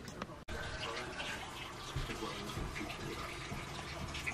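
Water rushes steadily from a washing machine water valve on a well-water supply, a constant hissing flow at moderate level that continues throughout after a brief cut at the start.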